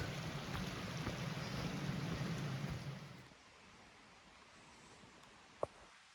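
A river running beside the Appalachian Trail gives a soft, rushing flow that fades away after about three seconds, leaving quiet air broken by one sharp click near the end.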